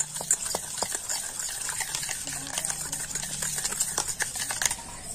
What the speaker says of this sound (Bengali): আর এখন আমি লবণ, চিনি আর টক দইটা কিন্তু খুব ভালো করে ফেটিয়ে নেব